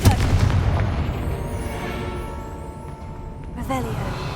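The Confringo blasting spell fires in Hogwarts Legacy, a heavy booming explosion at the start that rumbles and decays into a lingering whine, with brief game voice chatter near the end.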